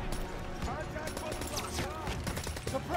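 Rapid World War II gunfire from the Call of Duty: WWII video game rattles in dense, quick bursts amid battlefield clamor, with shouting voices mixed underneath the steady volley.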